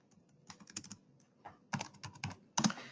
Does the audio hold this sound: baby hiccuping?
no